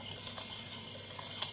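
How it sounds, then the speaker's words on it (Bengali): Milk and sugar stirred together in a bowl for a homemade sponge chocolate cake, a quiet steady scraping swirl with a couple of faint clinks, close and alone without talk. "দুধ আর চিনিকে ভালো করে মিক্স করে নেব"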